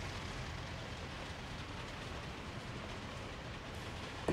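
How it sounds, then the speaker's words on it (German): A train pulls into Yekaterinburg's main station in the city-building game Workers & Resources, a steady, fairly faint rumble and rolling noise that holds evenly throughout. "So, Einfahrt in den Hauptbahnhof nach Jekaterinburg."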